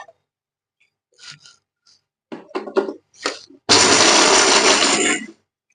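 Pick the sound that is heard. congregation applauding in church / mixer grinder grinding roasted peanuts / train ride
mixer grinder grinding roasted peanuts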